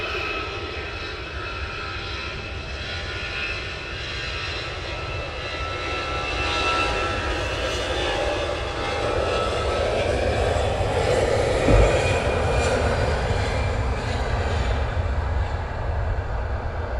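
An airliner rolls for takeoff at Luton Airport in a slight crosswind, its jet engines a broad, steady roar that swells and grows louder as it accelerates down the runway.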